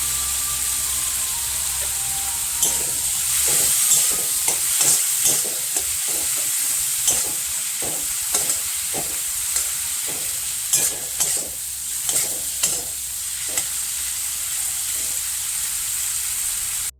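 Prawns fry in a pan with light salt, a steady sizzle under a series of scraping stir strokes repeated every second or so, close and fairly loud, no talking.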